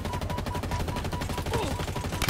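Rapid automatic gunfire in Halo Infinite, a dense continuous stream of shots with a few louder cracks layered in, steady and close throughout.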